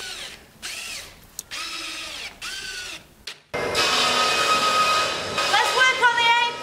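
A power drill drives screws into wooden lap panels for a garden wishing well. Short whirring bursts come first, then a longer continuous run, and speech comes through in places.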